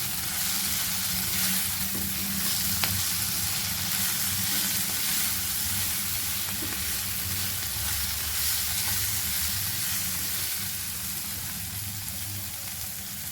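Vegetables for a spicy Maggi noodle dish stir-fry in a pan with a steady broadband sizzle and soft stirring scrapes, continuous and fairly close throughout, with no talking.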